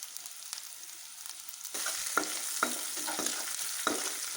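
Onion and whole cumin seeds frying in hot oil, a steady broadband sizzle that jumps louder partway through as they hit the pan, with repeated stirring scrapes and clinks over the crackle; no talking.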